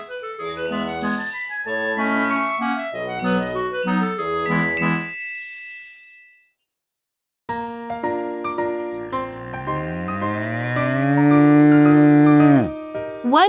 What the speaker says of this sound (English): The lazy first calf, Kuri, sleepyhead second calf, Kuki, and hard-working third calf, Kuya.